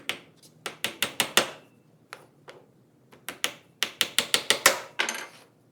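Nails hammered into wood, a quick series of sharp, close metallic knocks in two bursts, with strikes coming faster at the end of each run.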